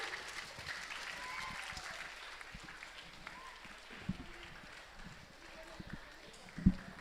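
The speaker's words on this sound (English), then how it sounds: "Can we give a huge round of applause to him?" Faint, distant applause from an audience at a Tamil Nadu launch event greets a student prize winner, a soft patter of clapping under a murmur of voices, with a few louder thumps near the end.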